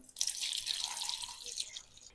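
Water pours into a cooking pot holding glass jars set on an old cloth for sterilizing, a short soft splashing stream lasting about two seconds.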